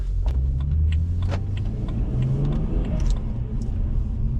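A BMW 1 Series car accelerates on a greasy winter road, its engine rumbling steadily and close with brief turbo flutter or whoosh chirps breaking through near the middle.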